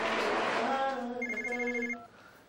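A telephone bell rings loudly and close in a domestic scene from a Persian television drama, a bright trilling ring sustained for about two seconds before it cuts off.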